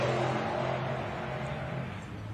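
A Holden Commodore race car engine drones loud and continuous at a time attack motorsport event, a steady rough mechanical roar that eases off slightly toward the end.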